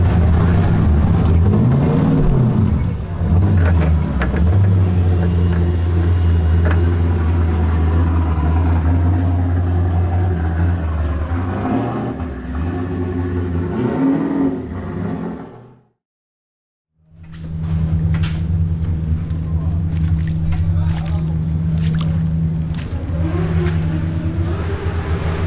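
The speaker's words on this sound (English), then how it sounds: "The car is working fine, the engine is running good" A drift car's engine runs loudly and steadily near the pit area of a DMEC drift event at Iron Drift King, a deep droning rumble that cuts out briefly and then resumes at the same idle.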